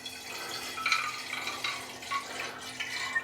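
Liquid poured from a 2.2 liter container into an Erlenmeyer flask to start a yeast starter, heard as a faint, soft trickle and splash that comes in uneven bursts.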